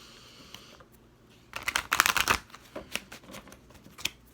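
A deck of cards is riffled and shuffled, a quick burst of flapping, ruffling clicks followed by lighter taps and shuffles.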